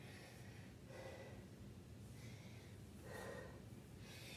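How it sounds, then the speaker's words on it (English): Heavy, rhythmic breaths during a strength workout, with slow cycles of hissing inhales and exhales that sound close and fairly faint over a steady background hiss. "I do apologize because I'm seriously heavy breathing"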